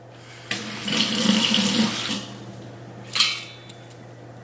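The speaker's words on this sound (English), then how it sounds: "I'm just gonna rinse those really well in cold water as well." Cold tap water runs into a sink to rinse something, a steady splashing stream that starts abruptly, eases off, then gives a second short gush with a couple of light knocks near the end.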